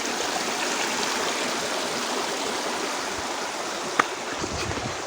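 Water rushing in a stream at Ayyappanovu waterfall, a dense, even roar that stays constant throughout, close by, with one brief sharp click near the end.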